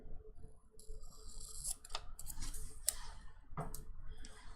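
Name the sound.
scissors cutting planner stickers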